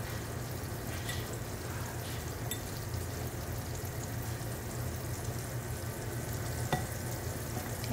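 Butter melts in a pan for bistek tagalog, a soft continuous sizzle under quiet stirring, with a few faint clinks and no talking.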